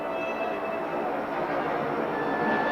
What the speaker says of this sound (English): And this is the train.